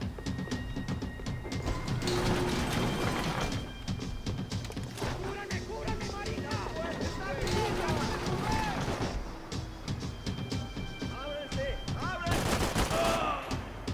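Assault rifle gunfire in Max Payne 3, bursts of rapid shots mixed with other firefights and game effects, loud and dense throughout with someone talking over it.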